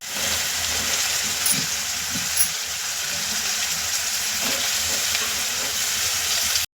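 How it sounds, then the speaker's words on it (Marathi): Chopped capsicum goes into masala frying in oil, setting off a steady, close hiss and sizzle with a few brief crackles and clatters over the bright frying noise, no talking. "आता आपण यामध्ये ढोबी मिरची जी आपण कट केली होती ती टाकून घेऊ"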